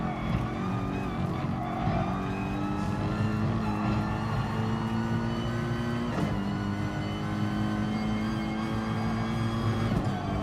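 A race car engine in GT Sport drones steadily, loud and close, then its pitch drops sharply as it shifts gears before climbing again.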